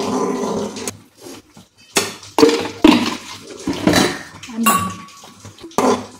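A spoon stirs semolina in a cooking pot, scraping and clinking against the metal in uneven bursts with brief pauses, close and fairly loud, while the other hand adds the semolina.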